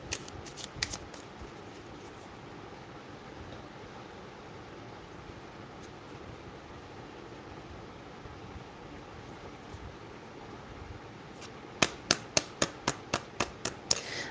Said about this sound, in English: Let's get some cards for Nayak.